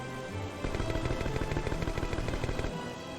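Rapid gunfire from a rail-shooting section of the video game Croc 2, a fast steady stream of shots rattling for about two and a half seconds at moderate volume with no talk.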